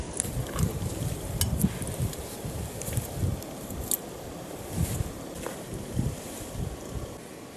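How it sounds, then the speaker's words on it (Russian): Strong spring wind buffets an outdoor microphone in gusting, rumbling bursts, with rustling and a few soft thuds, no voices. "Блин, ветер сильный."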